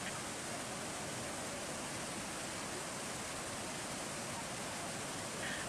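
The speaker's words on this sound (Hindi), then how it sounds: "घाटी में ऊपर से एक झरना गिरते हुए दिखाई दे रहा है।" Steady broadband roar of a waterfall plunging from above into a U-shaped rocky river gorge at the Ajanta Caves in Maharashtra, continuous and unbroken at even loudness throughout, with no voices over it.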